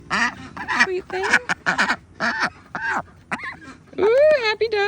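A pet duck quacks in a run of close, loud, raspy calls with a final drawn-out honk, mixed with a person talking nearby.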